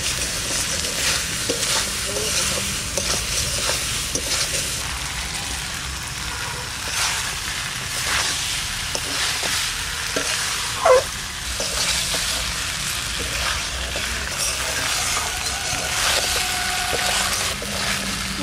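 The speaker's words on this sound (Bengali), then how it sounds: "মশলা কষানো হয়ে গেছে, এবার এই এঁচোড় দিয়ে দেবো। নাড়াচাড়া দিয়ে নিই।" Young green jackfruit being stir-fried with cooked-down spices in a pan, village-style cooking: a steady crackling sizzle with spatula scrapes and stirring, close and continuous, with one sharper clatter midway.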